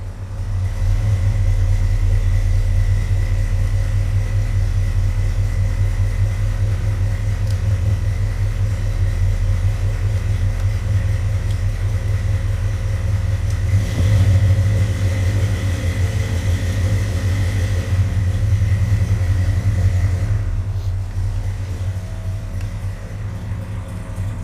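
A car engine idles with a steady low rumble and hum, close and continuous, with only a slight swell in the middle.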